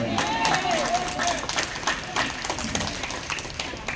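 A church congregation claps together in a dense, rhythmic patter, with distinct beats of hands under ongoing voices and some melodic sound, steady and moderately loud throughout.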